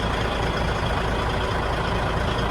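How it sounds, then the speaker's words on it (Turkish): A cold semi-truck engine runs steadily with a deep, rumbling drone and constant mechanical noise, loud and close, with no talking. "Size soğuk bir motor sesi dinletmek istedim."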